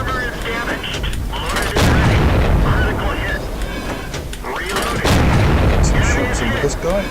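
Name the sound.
tank cannon shots in video game World of Tanks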